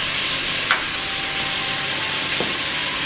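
Mutton frying with homemade masala gives a steady, even sizzle at moderate level, with a couple of faint stirring clicks and no talking.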